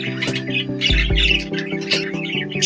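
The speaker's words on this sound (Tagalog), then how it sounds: "ipapakita po natin yung mga ibon dun sa raffle po natin" Lovebirds squawking loudly and repeatedly up close, with harsh overlapping calls and chirps over a steady droning background.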